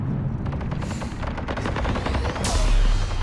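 Heavy cannon fire in the sci-fi game Mass Effect 3, a loud, dense stream of rapid booming shots with crackling impacts, swelling into a heavier blast near the end, with no talk.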